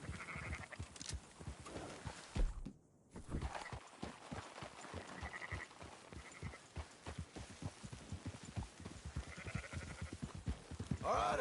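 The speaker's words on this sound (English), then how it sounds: "Marston, why don't you leave the sheep to me?" Sheep bleat faintly among a flock in the Red Dead Redemption 2 video game, mixed with steady horse hoof clip-clops and outdoor ambience, fairly quiet overall.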